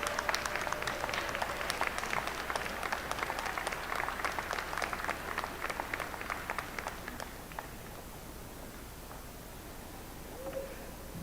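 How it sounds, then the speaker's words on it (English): Sustained applause from a law school graduation audience honoring graduates' families, a dense patter of many hands clapping at moderate distance that thins out toward the end. "give them a round of applause"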